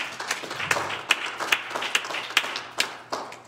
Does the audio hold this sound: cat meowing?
no